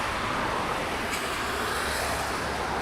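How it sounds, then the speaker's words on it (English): Cars pass on a nearby road near RAF Brize Norton, a loud, continuous rush of tyre and engine noise that swells slightly as one vehicle goes by. "the cars are a bit too loud on the microphone"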